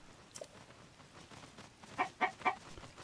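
Clucking chicken in Zelda Tears of the Kingdom, three short bright clucks near the end over a faint ambient game background, with no talk.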